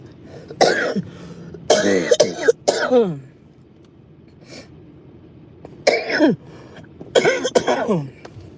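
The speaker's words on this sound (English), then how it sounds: "I just need this cough to just go away." Several bursts of harsh coughing and throat clearing close by, separated by quiet pauses, each fit lasting a second or so.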